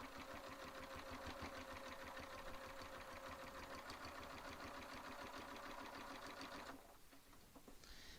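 A sewing machine stitches a quilt piece in a fast, even mechanical chatter that runs steadily for several seconds, then stops and leaves quiet room noise.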